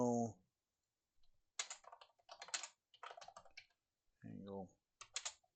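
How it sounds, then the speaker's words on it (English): Quick bursts of clicking keystrokes on a computer keyboard, close and crisp, arriving in short clusters with pauses between, while someone speaks briefly at the start and again near the end. "Let's just go ahead and type C"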